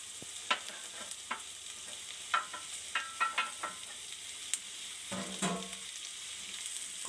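Octopus pieces sauté with onion in a pan, giving a faint, steady sizzle broken by scattered stirring scrapes and knocks of a utensil against the pan, with no talking.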